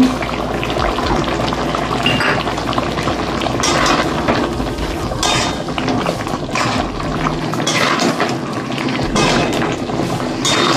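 Beaten yogurt goes into chicken frying with spices in a pan for Bengali-style coriander (dhania) chicken, producing a dense, steady sizzle and bubbling that stays loud and close throughout.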